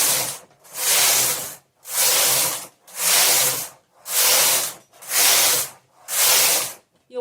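Knitting machine carriage passing back and forth knitting rows of waste yarn: six evenly spaced rasping, hissing sweeps about a second each, separated by short pauses, close and fairly loud with no talk.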